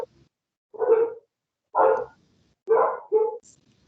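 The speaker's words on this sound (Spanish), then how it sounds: "Silencien por favor el micrófono que se escucha el perrito." A small dog barks four times nearby, the last two barks in quick succession, with short silent gaps between them and no other sound.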